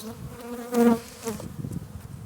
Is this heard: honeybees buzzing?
yes